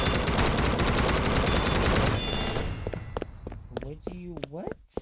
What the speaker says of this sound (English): And I got a minigun.